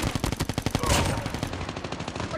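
Rapid automatic gunfire in the video game Call of Duty Mobile, a fast, loud, evenly spaced burst of shots that continues through the whole moment.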